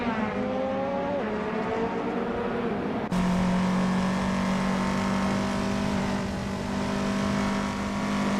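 Rally and race cars in a racing video game, including a 1984 Audi Sport Quattro S1 E2, with steady engine drones and a sudden shift to a lower sustained engine tone, continuous and fairly loud.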